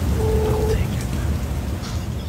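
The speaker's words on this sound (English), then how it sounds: "It's raining. It's thundering. If you can hear it." Steady rain pours throughout with a low rumble suggesting distant thunder, loud and continuous, with faint voices briefly present early on.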